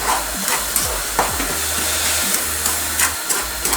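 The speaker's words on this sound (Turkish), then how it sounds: "burada kaynamaya devam etsin" A pot simmers on a stove while ekmek kadayıfı is made, giving low bubbling and soft popping over a steady hum, with a few scattered clicks and no speech.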